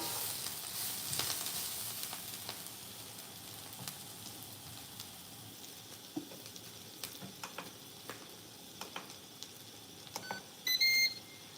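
Onions sautéing in a Ninja Foodi multicooker, a soft steady sizzle with scattered clicks and scrapes of stirring, followed by a short burst of electronic beeps from the appliance at the end.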